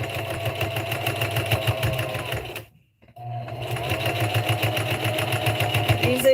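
A sewing machine stitches across the bottom of a tote bag, a fast steady mechanical whir that runs, stops briefly into near silence, then starts again, close and alone.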